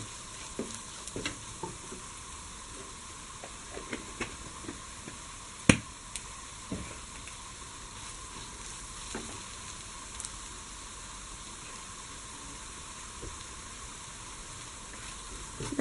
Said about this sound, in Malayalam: ഈ മസാലയൊക്കെ കൂടെ ഒന്ന് മൂത്ത് വരുന്നതിന് ആയിട്ട് ഇളക്കി കൊടുക്കുക